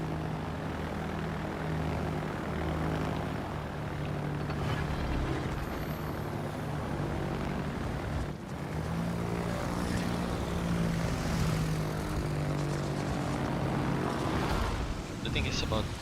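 German torpedo planes in World of Warships drone past with a steady propeller-engine hum, a continuous layered rumble that stays constant and fairly loud throughout.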